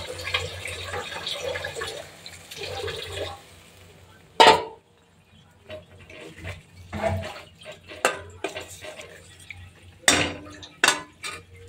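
Dishes being scrubbed and washed by hand in a home kitchen, with running water and intermittent clinks of pots and utensils, sometimes sharp, sometimes fading into quieter rinsing.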